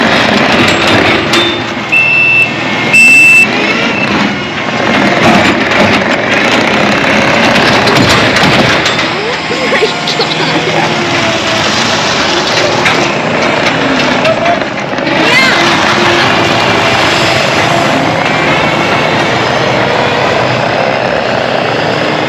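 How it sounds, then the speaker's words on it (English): Kubota SVL75-3 compact track loader popping a wheelie, its diesel engine revving loud and close with heavy sustained roar and mechanical clatter throughout, surging and dipping as the machine tips up and settles. "So I'm going to pop off a wheelie for you quick,"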